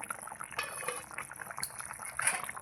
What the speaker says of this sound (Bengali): কি সুন্দর ফুটছে।